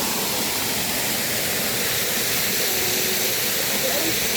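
A roadside waterfall on the way to Mundakayam pours in a loud, unbroken rushing roar, close by and steady throughout.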